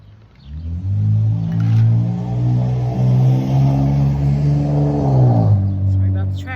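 A motor vehicle on a busy major street beside a home garden roars past close by. Its engine rumble swells loudly, holds for several seconds and then fades.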